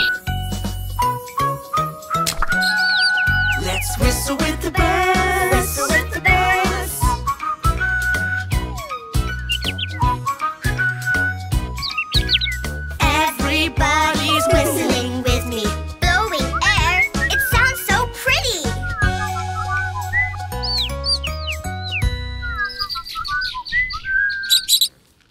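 Cartoon bird chirps and tweets ring out over a bright children's farm song with dense music throughout, in an animated kids' playhouse episode about rain and hatching eggs.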